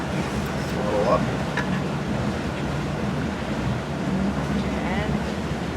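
A boat moves over open water at sunrise near the Belleville Bridge, with a steady low engine rumble mixed with wind buffeting and water rush, loud and continuous.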